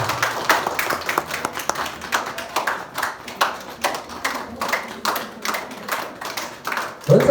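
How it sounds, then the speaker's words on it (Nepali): Wedding guests clap their hands together in a steady, uneven patter of applause that goes on throughout, fairly close and without clear speech. "हामी सबैजना ताली बजाउनेछौँ"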